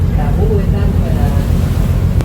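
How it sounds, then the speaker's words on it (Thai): Sea water and waves heard from a ferry near Koh Samui, a loud continuous rushing wash mixed with heavy wind buffeting on the microphone. "โอ้น้ำทะเล"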